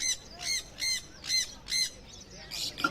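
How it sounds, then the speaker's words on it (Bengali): Caged pet birds such as parrots squawk in a run of four or five sharp, evenly spaced calls, moderately close, at a pet bird stall in the old Souq Waqif market in Doha, Qatar. "বিক্রি হয় টিয়া, কবুতর সহ দেশ বিদেশের নানা প্রজাতির পোষা পাখি"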